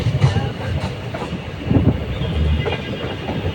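A passenger train runs on rails between Palani and Dindigul, heard from on board as a loud, continuous rumble with rhythmic clickety-clack of wheels over rail joints.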